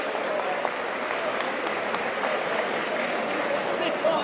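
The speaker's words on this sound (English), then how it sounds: "Can I get a round of applause for Mitu and Likkleman?" An audience applauds after a fight between Faisal Mitu and Danny Likkleman, a dense, continuous wash of clapping with crowd noise mixed in.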